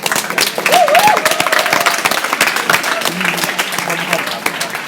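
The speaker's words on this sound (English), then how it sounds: "can we get a round of applause for everyone for those amazing hacks?" Audience applause for hackathon teams at a student hackathon's final presentations, a dense wash of clapping from a crowd throughout, with a few voices and a brief whistle mixed in.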